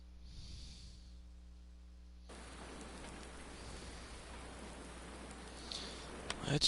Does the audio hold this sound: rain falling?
yes